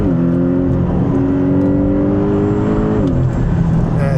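Porsche 718 Boxster GTS engine pulling in second gear through a hairpin turn: a loud, close engine note climbing steadily in pitch, then easing and dropping, with road and wind noise underneath.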